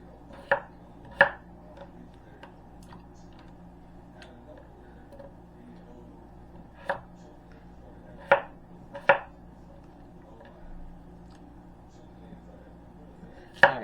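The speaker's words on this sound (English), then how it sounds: "you just cut the potatoes up just like I'm doing into about 6 pieces" A knife chops small potatoes into pieces on a board in a quiet kitchen, a handful of sharp, isolated cutting knocks spaced irregularly over low background noise.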